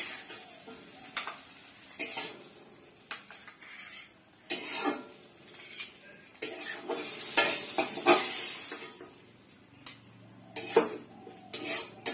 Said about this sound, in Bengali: হয়ে গেছে আমার সিম ভাজা, তুলে ফেলবো এবার।